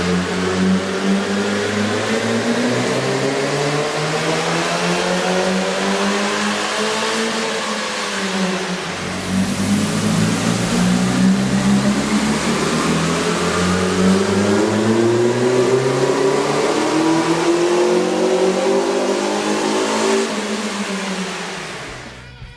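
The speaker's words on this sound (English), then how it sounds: "we ran the vehicle on the dyno to test the sound comparison versus the stock intake" A car engine on a dyno with a K&N aftermarket air intake revs steadily and loudly, pitch rising and falling in long sweeps, with a brief drop partway through before climbing again.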